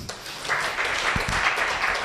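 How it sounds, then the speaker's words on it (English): Brief applause at a media and food safety event in Ghana, a modest patter of clapping that swells after a quiet start and carries on at moderate level. "I was expecting an applause"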